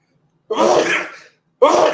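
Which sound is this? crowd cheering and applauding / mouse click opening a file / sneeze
sneeze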